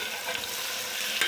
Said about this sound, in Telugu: ఇవి ఆనియన్స్ అనేది బ్రౌన్ కలర్ వచ్చే వరకు వేయించాలి